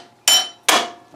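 Two sharp, ringing hammer taps on a metal part of a Suzuki FZ50 motorcycle, close and loud, each decaying quickly into silence.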